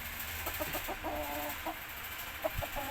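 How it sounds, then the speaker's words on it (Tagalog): Chickens, including a rooster, clucking in short, scattered bursts over a steady background hum, with a louder cluck near the end; no talking. "Meron ka ng manok na magandang lahi."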